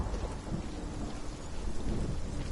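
Steady heavy rain with rumbling thunder in Hellblade: Senua's Sacrifice, a dense, continuous downpour wash with low rolling thunder, loud and without any voices.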